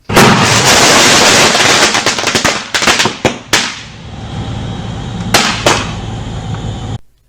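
A PC bursts in a cartoonish explosion: a dense, loud crackling blast followed by several sharp popping bangs, then a lingering hiss that cuts off abruptly.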